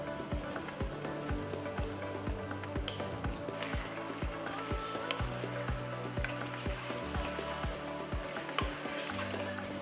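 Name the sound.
marinated vegetables sizzling in ghee and oil in pot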